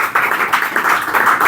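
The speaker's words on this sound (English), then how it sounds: "give a huge round of applause to Mr. Kaushik" An audience claps in a quick, uneven rhythm of sharp bursts that runs through a brief moment.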